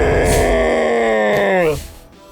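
A voice imitates a giant, drawn-out yawn from King Fuzzyhug during a tabletop role-play game: one loud, long groaning exhale that slides downward and then tails off into quiet breath.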